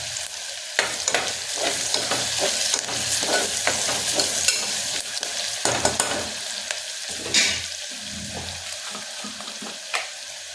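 A bay leaf dropped into hot oil for a rajma curry, loud steady sizzling and frying close up, with stirring scrapes and spoon knocks against the pan throughout.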